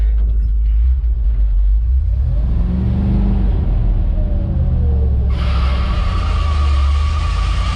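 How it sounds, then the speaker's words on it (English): Engine of a 1979 Ford F800 truck rumbling loud and close as it pulls away after the park brake is released, with a deep steady drone, a rising rev and a sudden hiss of air partway through. "Release the park brake."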